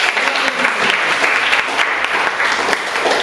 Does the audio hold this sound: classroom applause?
yes